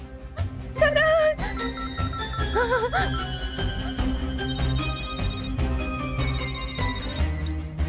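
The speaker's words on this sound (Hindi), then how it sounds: "करण को फोन लगाती हूँ।" A melodic electronic ringtone plays loudly and continuously, chiming tones repeating over a steady backing beat.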